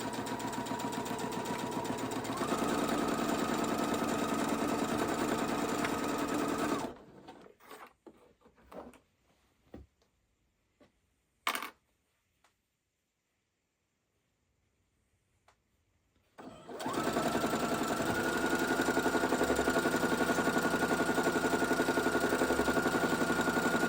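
A sewing machine back stitches a Christmas door hanger for quilting crafts, a loud rapid mechanical whirr that runs, pauses for several seconds amid scattered clicks and handling noises, then starts up again.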